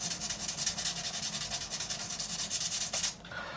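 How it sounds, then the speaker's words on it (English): Sandpaper rubs rhythmically over the fret tops of a Harley Benton guitar during a fret dress, polishing out scratches in quick, even back-and-forth strokes, close and alone, ending abruptly. "all we're doing is polishing the tops and getting rid of those scratches off the top."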